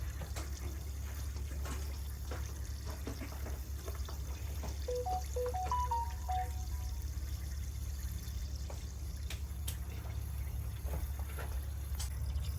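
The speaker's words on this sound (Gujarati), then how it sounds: "હવે એકદમ સ્લો થઈ ગયું છે પાણી હાવ ઝીણી ધારે આવે છે" A thin stream of water trickles steadily and gently from a water tank, over a constant low hum, with a few faint chirping notes midway.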